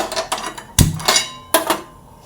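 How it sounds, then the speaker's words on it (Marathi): An iron tawa griddle is set down on a gas stove while French toast is being made, giving a few sharp metallic clanks and clatters at close range, with no talking. "आता मी इथे यासाठी गॅस चालू करून घेते त्या गॅसवरती मी तवा ठेवलेला आहे"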